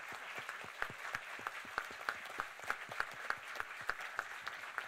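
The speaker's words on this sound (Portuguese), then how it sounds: "Quero pedir uma salva de palmas para esse time." Applause from an audience at an honorary tribute ceremony, a steady spread of many hands clapping with sharp individual claps standing out, moderately loud and continuous with no talking.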